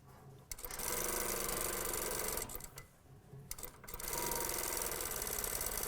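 A sewing machine stitches an elastic hem onto a vest, running in a quick rapid patter, pausing briefly midway, then resuming steadily.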